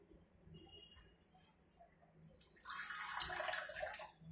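Water is poured into a pan of millets while cooking upma, a soft splashing pour rising midway and continuing steadily, close and fairly quiet against faint room noise.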